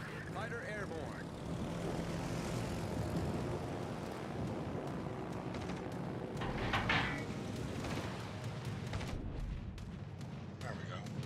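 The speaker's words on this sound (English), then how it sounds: "Fighter airborne." A fighter plane launches in the naval battle game World of Warships, its propeller engine droning steadily amid distant gunfire and game effects, mixed under other sound for several seconds.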